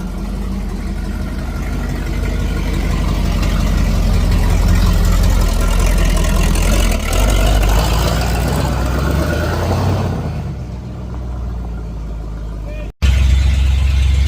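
A 1955 Buick Super with a big-block chassis swap roars loudly while driving, a heavy low rumble building and holding, then easing off before a brief dropout and a renewed blast.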